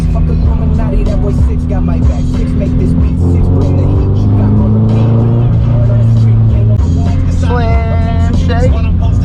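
A Subaru BRZ drifts on a wet road, its engine roaring loud and close with rising, revving pitch sweeps as the car slides, and voices talk over the noise.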